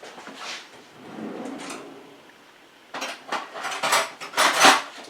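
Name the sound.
scooping muffin batter with a spoon into tins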